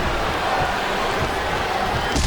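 Crowd noise in the WWE SmackDown vs Raw 2008 wrestling video game, a steady dense roar of arena voices chanting throughout, loud and continuous.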